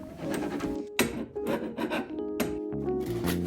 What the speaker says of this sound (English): once the glue was dry, I scraped off as much as I could with a chisel